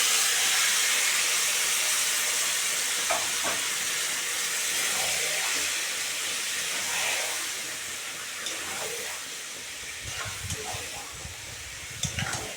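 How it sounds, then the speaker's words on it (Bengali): Marinated stingray goes into a pan of browned onions and sizzles with a strong, steady hiss that eases slightly, with faint clinks near the end. "এখন আমি ম্যারিনেট করা মাছটা দিয়ে দিলাম শঙ্কর মাছটা"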